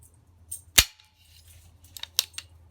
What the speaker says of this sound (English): No slack, no take up, you just squeeze the trigger and it goes.